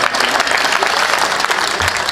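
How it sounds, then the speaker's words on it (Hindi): An audience at a Hindi comedy poetry gathering claps loudly and continuously, a dense, close wash of applause from a large crowd that stays at full strength throughout. "दोबारा जोरदार तालियां बजाएं।"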